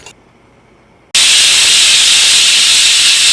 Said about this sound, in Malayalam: ഇനി കുക്കറിൽ നിന്ന് ഒരൊറ്റ വിസിൽ വന്നു കഴിയുമ്പോൾ തീ ഓഫ് ചെയ്യുക